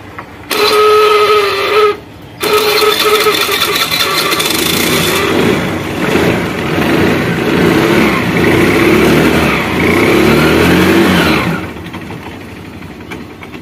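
A Hero Pleasure scooter with a starting problem, one that stalls when the throttle is released: a short starter whir, a pause, then the engine catches and runs loud and close, revving unevenly for several seconds before dropping off.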